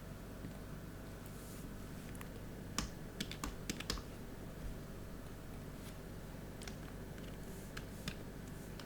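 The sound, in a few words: typing on a computer keyboard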